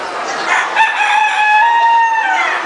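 A rooster at the Alaska State Fair crows loudly and close by, one long drawn-out call with a harsh, ringing tone that holds steady for a couple of seconds.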